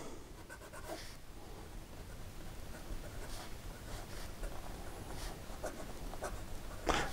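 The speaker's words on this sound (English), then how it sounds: "Here we go with the writing sample for the Montegrappa." A Montegrappa Elmo Chrysocolla fountain pen scratches softly across paper in a steady, close, quiet stream of strokes, with a few brief louder scrapes and no talking.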